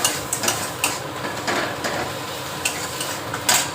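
Potato filling for Bengali aloo chop being stirred and sautéed with salt in a pan, a steady soft sizzle broken by several sharp scrapes and clinks of a spatula against the metal, close and alone.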